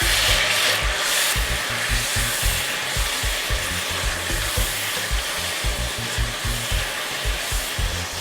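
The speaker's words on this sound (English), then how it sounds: "we are frying the meat" Meat fries in a pan with a steady, broad sizzle that fills the background, over a low rhythmic thumping, with no talking.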